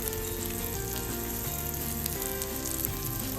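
Breaded chicken escalope fries in a pan with a steady, close, even sizzle that runs unbroken throughout, with a tonal hum in the background and no voices.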